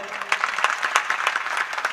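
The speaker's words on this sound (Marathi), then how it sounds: "सगळ्यांसाठी एकदा टाळ्या वाजवा बरं" An audience claps together at a kirtan, a short burst of dense, even applause heard up close, with a voice speaking over it.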